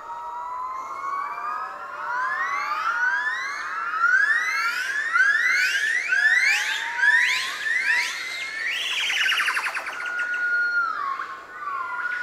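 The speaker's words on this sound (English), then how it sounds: "Yellow-cheeked gibbons mark their territory using loud noises rather than physical signs." Yellow-cheeked gibbons call in a Vietnamese forest, a loud run of rising, siren-like whoops that climb and speed up over and over, with no talking.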